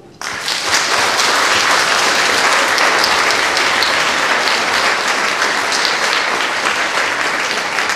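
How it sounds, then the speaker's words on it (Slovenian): An audience at a Mother's Day school cultural programme breaks into steady, full applause that starts abruptly and holds at an even level for several seconds, with no talking over it. "prosim, da se vi zahvalite mentoricam z aplavzom"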